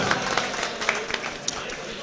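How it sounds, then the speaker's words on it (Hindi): An audience at an Indian poetry gathering, a mushaira, breaks into applause, a steady ripple of clapping with a few louder claps and crowd murmur mixed in, voices faintly audible beneath. "एक बार जोरदार तालियां बजाइए।"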